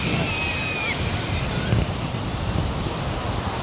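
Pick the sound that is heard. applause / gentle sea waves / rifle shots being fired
gentle sea waves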